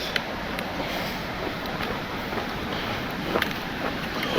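A mountain torrent flowing down a valley, a constant broad rushing roar of water heard from nearby, steady and unbroken with slight gusts.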